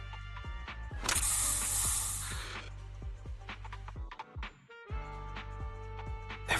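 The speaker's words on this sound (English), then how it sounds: "Here, have a taste of this special Bangbu spray." A spray device in the video game Zenless Zone Zero gives off mechanical clicks and ratcheting, then a bright burst of hissing spray about a second long, over steady game music.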